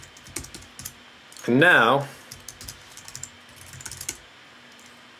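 Typing on a computer keyboard, quick light key clicks scattered through the clip, with one short spoken phrase in the middle.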